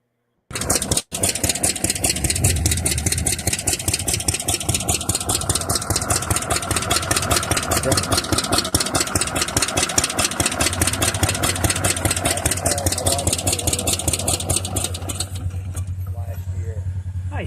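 A vintage 1966 Arctic Cat rear-engine snowmobile at a vintage show fires up and runs loud and close, with rapid, even engine pulses holding steady until it fades slightly at the end.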